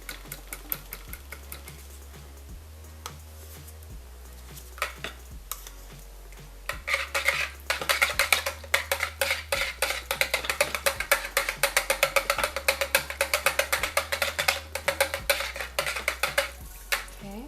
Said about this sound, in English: I like actually using this whisk because it allows me to get a better feel of